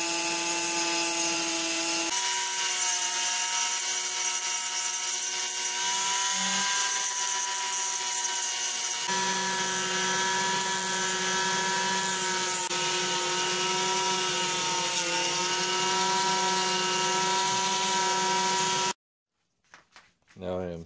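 Steady abrasive whine of sanding and polishing a forged steel meat cleaver with a power tool, loud and continuous with slight pitch shifts, cutting off near the end before a short burst of sound.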